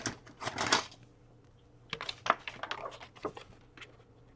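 Scissors cut the corners of a 12 x 12 cardstock sheet in a handful of short, crisp snips, one burst early and a cluster later, close and fairly quiet with no talking.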